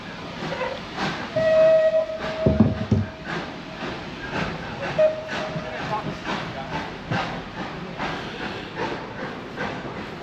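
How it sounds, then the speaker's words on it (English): A train rumbles and hisses as it pulls away, with a short whistle blast and chuffing sounds fading under steady background noise. "So there goes the train."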